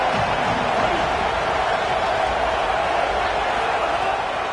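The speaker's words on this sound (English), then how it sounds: "This crowd rising up, sensing that its defense needs some help." Football stadium crowd rising up during a tense defensive down, a loud, dense roar of thousands of fans sustained throughout with no break.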